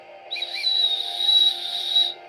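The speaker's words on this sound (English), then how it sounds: "It's got a whistle, woo!" A small survival whistle of the kind carried for outdoor emergencies in the woods is blown in one steady, shrill blast lasting about two seconds, loud and close, with a faint airy hiss around the tone and no talking.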